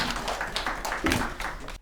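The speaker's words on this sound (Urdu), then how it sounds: "حاضرین، تالیوں کے ساتھ استقبال کیجیے جناب جوشی صاحب" An audience claps in welcome for a speaker at a gathering honouring Shamim Hanfi, a short burst of moderately loud, uneven hand claps that ends abruptly.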